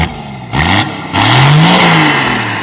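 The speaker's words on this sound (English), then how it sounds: "if you want to hear what a straight piped 3-inch exhaust sounds like" A Toyota Land Cruiser's loud straight-piped 3-inch exhaust barks through two quick revs, then a longer throaty rev that rises and falls, close up and raw-sounding.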